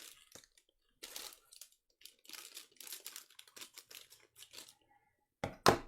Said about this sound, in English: So I probably need scissors.